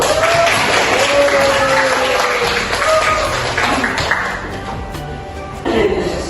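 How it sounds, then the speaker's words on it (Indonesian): Applause from a classroom or workshop audience after a participant is thanked, dense steady clapping filling most of the stretch, easing slightly near the end, with a brief voice rising over it. "Kita beri tepuk tangan dulu."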